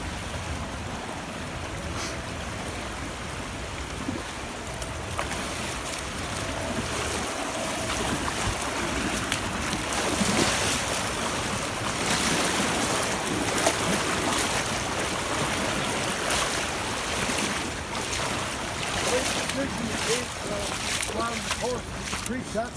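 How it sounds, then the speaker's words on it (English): Runners splash and wade through a river crossing during the Black Canyon Ultra 100K trail race, with steady rushing water and wind noise throughout and people talking over it. "First river crossing."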